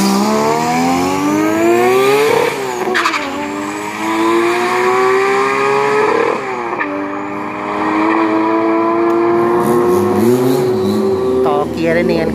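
Drag car on a 402 m straight drag strip during practice, engine revving hard with rising pitch sweeps and clear gear shifts around every few seconds, loud and close throughout.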